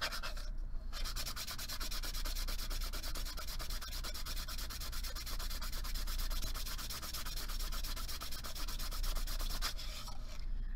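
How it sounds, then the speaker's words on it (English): Sandpaper rubbed around the edges of a beaded bezel pendant in a steady run of rapid, rhythmic scratchy strokes, close and continuous, with no speech. "I'm going to sand the edges of my bezel, and that I'm just taking my sandpaper around"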